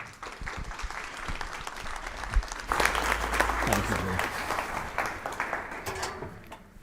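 Applause from an audience at a history lecture welcoming a speaker, a dense steady wash of clapping throughout, swelling midway, with a brief spoken thanks near the end.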